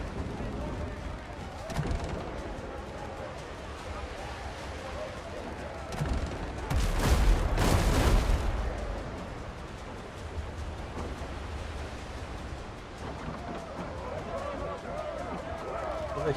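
Cannon fire aimed at the player's sailing ship in a pirate survival game, a heavy rumbling volley bursting out mid-clip over ongoing ambient noise, with someone talking throughout.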